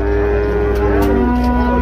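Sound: cattle mooing at a livestock fair

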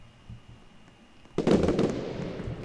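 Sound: fireworks in video game Roblox Lumber Tycoon 2

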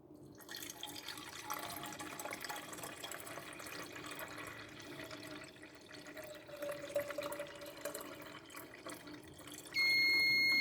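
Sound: water being poured into a car coolant reservoir

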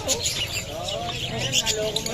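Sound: pet bird chirping

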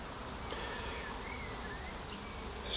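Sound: swarm of bees buzzing

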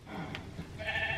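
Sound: voice imitating a sheep bleating

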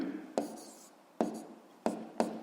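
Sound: writing with a pen while solving a physics problem

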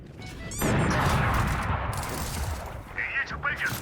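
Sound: all missiles launching in a video game

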